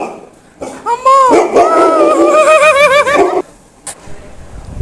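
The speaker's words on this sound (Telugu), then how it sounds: "నేను నార్మల్ వాయిస్ అది పెట్టేస్తాను డాగ్ ఎలా అరుస్తుంది అని" A dog gives loud, wavering howls and yelps close by, a continuous stretch of cries lasting a few seconds before stopping, in a room where puppies are kept.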